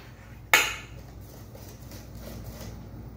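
A single sharp clatter as banana bread batter is poured into a metal baking pan, followed by quiet kitchen room tone with faint soft scraping.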